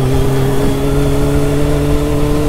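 A Kawasaki Ninja H2 motorcycle engine runs at a steady, loud, close drone with a strong tonal whine, holding one pitch without talk.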